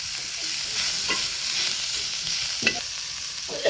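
Vegetables with curry leaves and coriander sauté in a pan, a steady close sizzle broken by a few soft stirring scrapes, with no voices.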